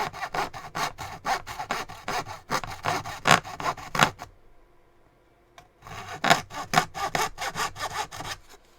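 A Japanese hand saw cuts through cheap plywood in quick, rhythmic rasping strokes, close and loud, pausing briefly midway before the steady back-and-forth sawing resumes.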